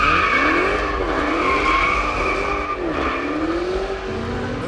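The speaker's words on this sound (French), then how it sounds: "On va regarder ce que ça donne en accélération." A Dodge Challenger SRT Hellcat launches under hard acceleration, its engine roaring loud and close with rising pitch sweeps through the gears while the tires squeal continuously the whole way.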